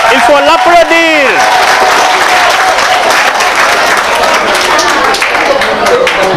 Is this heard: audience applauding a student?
yes